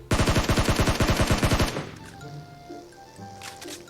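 Rapid automatic gunfire from PUBG Mobile, a loud burst of evenly spaced shots lasting under two seconds, followed by quieter in-game background sounds.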